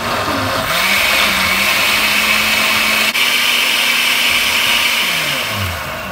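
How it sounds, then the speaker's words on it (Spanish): A kitchen blender whirs loudly and steadily, liquidizing tomatoes for a shrimp empanada filling; the motor spins up, holds a constant high roar for several seconds, then winds down near the end. "Entonces ahora licuamos el jitomate."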